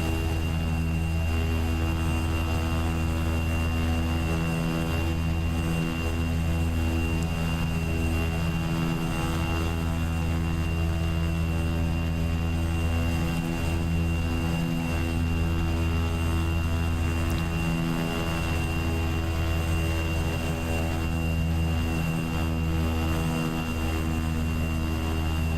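Cessna 208B turboprop taxiing in the flight simulator X-Plane 10, a steady loud engine drone with constant tonal hum and propeller buzz, unchanging throughout.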